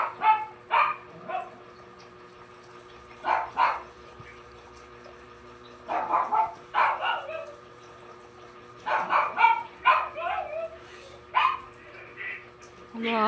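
The neighbour's dog, Chubby, barks in several short bursts at moderate distance, maybe set off by a cat, with quiet gaps between volleys and faint background hum.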